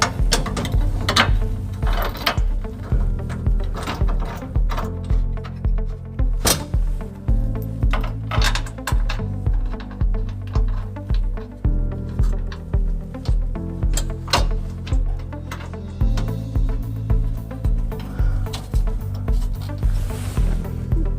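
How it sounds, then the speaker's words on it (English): A ratchet wrench driving bolts back into a Toyota Tacoma trailer hitch with the bumper loose gives steady, repeated clicking ratchet strokes in close, continuous bursts over a low mechanical hum. "we're going to put the bolts that we took out earlier, we're going to put those back into place"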